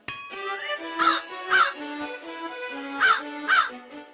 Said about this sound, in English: See how this crow is cawing